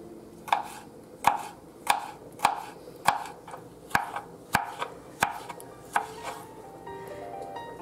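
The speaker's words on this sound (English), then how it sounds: "I will cut in the small slices." A knife chops a dill pickle into small slices on a board, about a dozen crisp, evenly spaced cuts in a steady rhythm, heard up close and alone.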